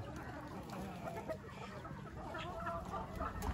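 Chickens clucking nearby in short, irregular bursts over a busy outdoor background, with no talking.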